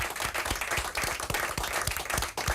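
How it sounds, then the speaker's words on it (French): Studio audience applauding during a French talk show, a steady burst of dense hand clapping heard up close with no voices over it. "on applaudit là"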